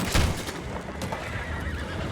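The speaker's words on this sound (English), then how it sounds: "Boys, go find out about those horses down below." Horses neigh and whinny in Red Dead Redemption 2 aboard a boat during a fight, a loud close whinny near the start followed by continued snorting and shuffling hooves over a steady low rumble.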